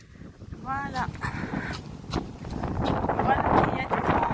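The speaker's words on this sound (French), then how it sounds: "Le vent qui ne laisse pas avancer. Oh là, vraiment du vent très fort." Strong wind gusts outdoors in Kiev, roaring and buffeting the microphone and swelling louder toward the end, with people talking and faint footsteps in the mix.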